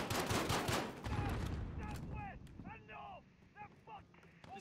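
Loud bursts of gunfire from the Call of Duty MW video game, dense rapid shots at the start, then scattered shots and mechanical clicks amid game effects and voices.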